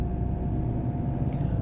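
Engine noise inside the cabin of a Mahindra XUV 7XO driven slowly in city traffic, a steady low droning hum with no talk, constant and moderately loud throughout the short stretch.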